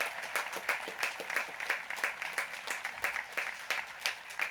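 Audience applause for graduates at a Class of 2020 graduation ceremony: steady, moderately loud clapping from a crowd that carries evenly through the whole stretch with no talk over it.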